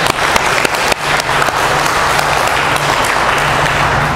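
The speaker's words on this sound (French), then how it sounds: "on peut donner une bonne main d'applaudissement au pavillon" Loud, dense hand clapping from an audience at an abbey talk, a continuous crackling wash with a few sharper claps standing out, close and sustained without speech.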